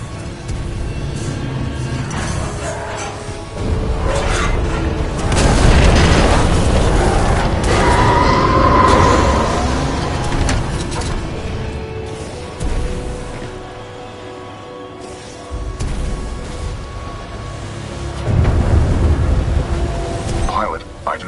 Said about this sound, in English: a series of explosions just weakened the manipulator arm